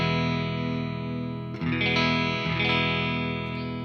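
An electric guitar played through an Engl Fireball 100 amp and E412 cab, sustained distorted notes ringing, then a short burst of changing chords before holding again, with no talking.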